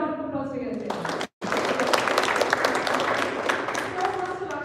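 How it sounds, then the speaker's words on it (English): A Toastmasters meeting group applauds itself, with a voice speaking first and then a brief cut before steady, full clapping continues to the end. "Give a round of applause to yourself"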